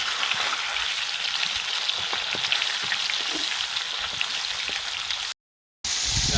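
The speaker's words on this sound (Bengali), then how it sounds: "তো আরামসে ভেজে নিচ্ছি মাছগুলোকে।" Large piranha fish pieces fry in a wok, a loud, crackling sizzle with sharp spattering pops, steady and close, broken by a short gap of silence near the end before resuming.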